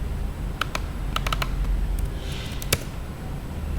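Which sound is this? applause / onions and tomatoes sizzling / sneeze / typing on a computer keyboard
typing on a computer keyboard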